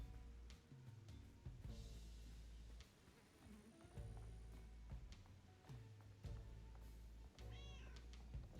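A cat meows several times in the South of Midnight video game, set against layered game music and ambience, with short cries standing out clearly in the mix.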